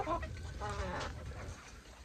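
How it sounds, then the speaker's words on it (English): Chickens in a village cluck and murmur close by while being fed, a brief, busy burst of soft clucking calls. "here I am giving food to my chickens."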